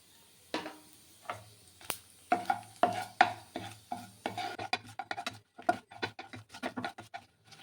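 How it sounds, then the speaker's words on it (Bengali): Dried red chillies, bay leaves and whole cumin tempering in hot oil, heard as a soft crackling sizzle broken by frequent clinks and scrapes of a spoon stirring in the pan, close by with no talk. "এই যে এইগুলো ফোড়নে শুকনো লঙ্কা তেজপাতা ভাজা হয়ে গেছে"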